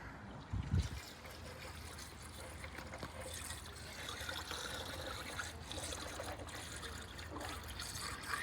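Coolant trickling and pouring into the cooling system of a 1967 Chrysler Imperial, a steady faint liquid stream after a brief bump at the start, with no voices.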